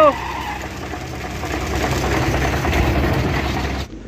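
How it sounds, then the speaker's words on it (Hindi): A truck engine idles with a low rumble and knocking vibration while its clutch is pressed, giving a rougher, louder grinding rise before the sound cuts off abruptly near the end. "दूसरा क्लच दबाने से आवाज़ आ रही है"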